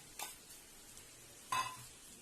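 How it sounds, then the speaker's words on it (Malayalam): Coconut paste is stirred into a sugar-free thoran in a pan: two brief, soft scrapes of a spoon over a faint sizzle, quiet and close. "അരപ്പിട്ട് നമുക്ക് പയ്യെ ഒന്ന് ഇളക്കാം."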